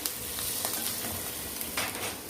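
Boiled potatoes stirred gently in a pan for Maggi masala poriyal, a soft continuous scraping with a faint sizzle, low and steady throughout.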